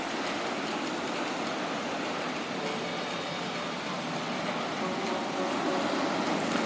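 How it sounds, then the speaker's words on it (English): Osiris roller coaster train running at Parc Asterix, a steady broad rushing rumble of wheels on track that stays loud and even throughout, with no voices. "let's watch the train one more time"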